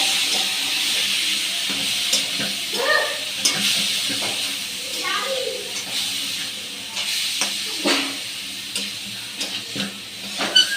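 Red amaranth greens tossed with shrimp in a hot pan give off a steady sizzle and hiss, with a few scraping stirs of a spatula close by and no talking.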